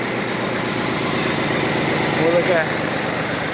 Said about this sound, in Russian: Трехцилиндровый дизельный двигатель стоит на нем.